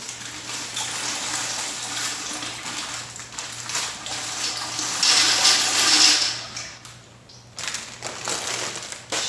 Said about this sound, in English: So I'm gonna dump these noodles into my water.